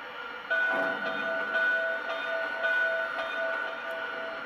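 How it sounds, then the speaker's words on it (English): The locomotive bell of a 20th Century Limited Dreyfuss Hudson model train set rings steadily. A sustained metallic ringing tone repeats at an even pace over a constant background hum, close and fairly loud, with no voices. "So here's the bell."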